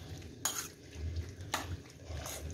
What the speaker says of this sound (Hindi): अब इसको अच्छे तरीके से मिक्स कर देना है